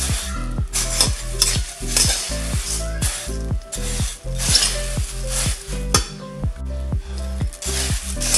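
Spicy yellow puffed rice bhadang being stirred in a pan, dry puffed rice rustling and scraping with rhythmic spoon strokes and light metallic clinks against the pan, repeated steadily throughout.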